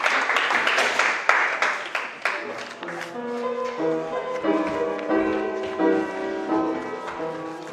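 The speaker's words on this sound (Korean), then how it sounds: "박수로 마치겠습니다" A Korean church congregation closing its worship service gives a burst of clapping that thins out within a couple of seconds, after which piano and singing carry on with a few scattered claps.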